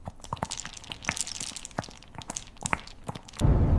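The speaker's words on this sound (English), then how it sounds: "Joyful munching sounds and happy tail thumping against the floor tiles." Close, wet crunching and chomping as a dog eats, irregular bites and crackles in quick succession, ending in a burst of low rumbling noise.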